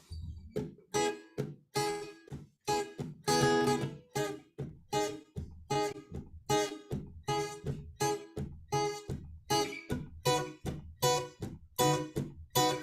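A guitar plays a choppy, steady offbeat strum, short percussive chords repeating in a bouncy reggae pattern, loud and close throughout.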